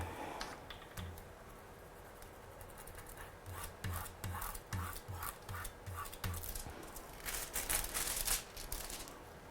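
Foil being rubbed by hand onto a stamped Christmas card, a run of soft scratchy strokes in rhythmic bursts that grow busier and a little louder toward the end, close and alone with no talking.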